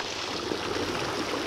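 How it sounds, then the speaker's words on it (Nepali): Water pours steadily from a spout, a continuous close rushing splash with no pauses or talk. "यहाँ एउटा धारबाट त पानी आएको रहेछ"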